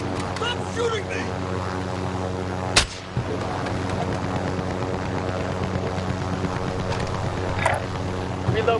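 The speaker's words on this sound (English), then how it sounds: "Stop shooting me!" In Call of Duty Warzone, a single sharp gunshot cracks out and a fainter shot follows later, both set under steady talking and a constant engine-like drone.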